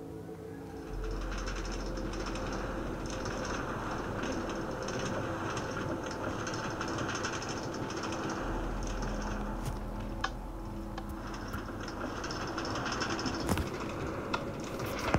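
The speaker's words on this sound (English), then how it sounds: "This is the Far Rockaway bound A train." A New York subway A train bound for Far Rockaway rumbles along with a steady low drone, interior rattles and clicks over the rails, holding an even loudness throughout.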